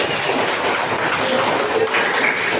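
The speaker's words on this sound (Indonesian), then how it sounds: "Ya, tepuk tangan buat Ai." A classroom of students applauding a classmate after her answer, a continuous even wash of hand claps at moderate loudness, no talking over it.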